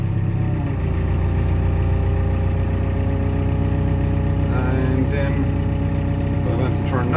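An old abandoned Caterpillar bulldozer engine runs at a steady, loud low rumble as the machine backs out, with someone talking over the drone.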